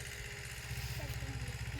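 A small tractor engine runs in a farm field, its low rapid chugging idle steady and continuous at a moderate distance.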